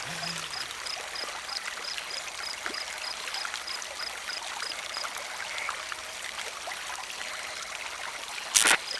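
Water runs steadily from a tap or vessel indoors, a continuous trickling stream heard alone for several seconds, ending with a brief sharp clatter.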